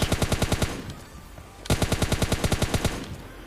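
Automatic gunfire in PUBG Mobile Lite rattles out in two rapid, loud bursts of evenly spaced shots as bots are knocked down and finished, separated by a short gap.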